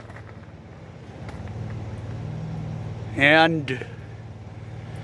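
A semi truck's Cat 5EK diesel, rated around 550 to 575 horsepower, idles with a steady low rumble after a cold start, while someone talks over it nearby.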